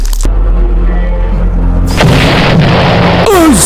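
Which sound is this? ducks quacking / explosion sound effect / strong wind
explosion sound effect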